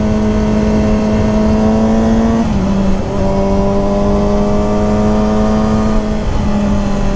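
A 2014 Yamaha R6 sport motorcycle engine runs at high, steady revs during a test ride, holding a strong buzzing tone with brief dips at shifts or throttle changes, loud and close throughout with no talk.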